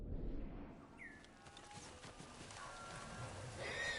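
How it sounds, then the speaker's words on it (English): A horse in the samurai video game Ghost of Tsushima lets out a sharp whinny near the start, followed by a quieter drawn-out call and clip-clop hooves over steady game ambience; no one talks. "Why did my horse, like, sound like someone killed him?"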